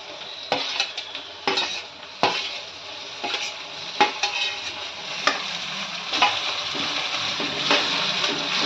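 Tomato going into hot oil with onion, green chili and curry leaves that are already frying for egg bhurji, with a steady sizzle broken by repeated scraping stirs of a spoon in the pan, close and alone.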